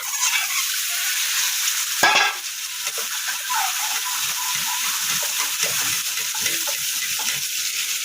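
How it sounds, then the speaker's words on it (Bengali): Potatoes and eggs, rubbed with turmeric and salt, fry in hot oil in a wok with a steady, close sizzle and crackle. A brief louder burst of frying comes early, then constant hissing with soft stirring clinks underneath. "তারপরে যে আলু আর ডিমগুলাতে হলুদ আর লবণ মেখে এটাকে ভাজি করে নেব"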